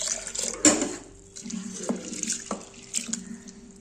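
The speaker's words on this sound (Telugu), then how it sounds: "ఈ పప్పు అయితే కొంచెం 2-3 సార్లు అయితే వాటర్ వేసి అయితే కడిగేస్తాను" Dal lentils being washed under running tap water in a kitchen, with splashing bursts, drips and a few clinks of a pot, close and intermittent.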